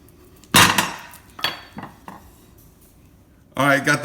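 A thick boudin dip is scraped out of a bowl into an old cast iron skillet with a few loud metallic clanks and scrapes. A heavier clatter comes at the end.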